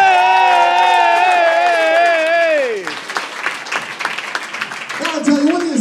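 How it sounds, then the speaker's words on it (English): An audience at the Coney Island USA Soirée on Surf breaks into sustained applause and cheering. The crowd noise rises loud and close after a sung or voiced tone fades, with voices calling out over the clapping. "Give yourselves a round of applause."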